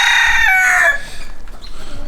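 A rooster crows loudly and close in a muddy chicken coop, one long drawn-out call that fades into softer clucking and low farmyard background.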